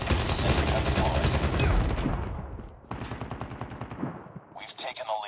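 Loud, dense automatic gunfire in Call of Duty Mobile rattles almost without pause, then breaks into shorter rapid bursts near the end.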